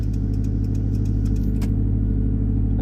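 A manual-transmission pickup truck engine hums steadily close by, a constant low drone that rises slightly as the driver presses the throttle during a U-turn, with faint clicking ticks on top.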